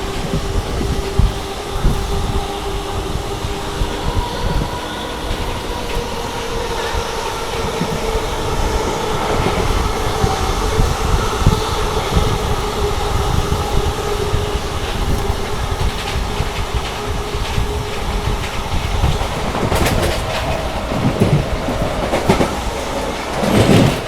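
An express train rushes through Mirzapur station at high speed at night, heard from on board. A loud continuous roar and rumble carries rhythmic wheel clatter, with some metallic squeal toward the end.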